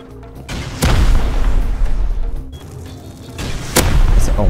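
Satchel charge blasts in the survival game Rust, several heavy booms going off close by with sharp cracks at the start and again near the end, over a constant rumbling bed of noise.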